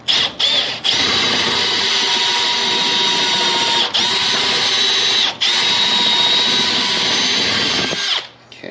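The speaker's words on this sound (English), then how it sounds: "I'm going to put that block of wood underneath so that I can drill a hole in the block" Power drill boring a hole in a block of wood, a loud continuous whine with a few brief dips as the bit bites and releases, ending abruptly when the motor stops.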